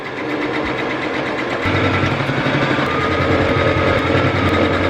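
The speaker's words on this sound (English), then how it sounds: "I'm going to sew them together and then we'll have part of a hat." Sewing machine stitching a 1/4 inch seam to join fabric pieces of a reversible bucket hat; a steady, close mechanical whir that grows louder and denser midway and runs continuously to the end.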